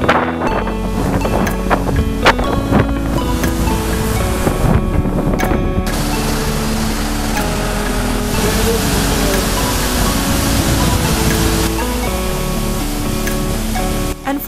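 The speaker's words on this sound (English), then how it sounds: "It's possible to walk behind this massive waterfall" Skógafoss, a massive waterfall in southern Iceland, roars in a loud, continuous wash of falling water, with wind buffeting the microphone throughout.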